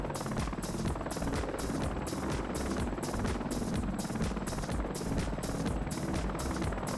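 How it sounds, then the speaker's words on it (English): Vintage helicopter in a flight simulator game over Svalbard, a steady loud rotor chop with rapid rhythmic beating over a constant engine drone, close and continuous throughout. "Vintage choppers."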